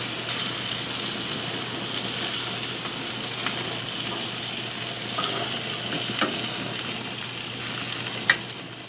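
Greasy pork chops sizzle steadily on a grill, a continuous bright frying hiss with scattered pops and crackles, close and alone with no talking.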